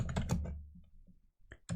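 Keystrokes on a computer keyboard as a command is typed into a Linux terminal, a quick cluster of clicks followed by a pause and a few more taps, close and fairly quiet.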